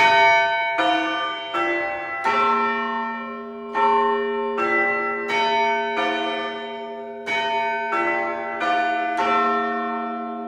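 Salisbury Cathedral's bells ring, about a dozen sharp struck strikes in uneven succession, each leaving a long humming ring that overlaps the next, loud and close without any talk.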